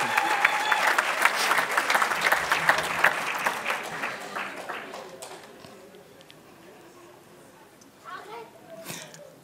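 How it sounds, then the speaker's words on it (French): A church congregation applauds loudly for several seconds, then the clapping thins and fades, and a voice follows. "On acclame très fort le Seigneur."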